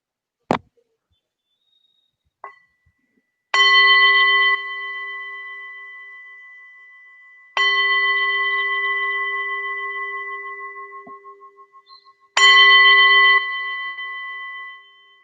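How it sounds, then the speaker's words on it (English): A mindfulness bell is struck three times, each a sharp bright strike that rings out with a long, clear sustained tone. Each strike decays slowly before the next one. Quiet room, no talking. "I'll just invite the bell thrice, just to help us get to this moment."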